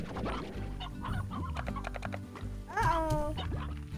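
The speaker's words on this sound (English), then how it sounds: "There's even chickens." Chickens cluck in the Slime Rancher video game, with a sudden burst of squawking calls near the end over busy in-game background sound and music.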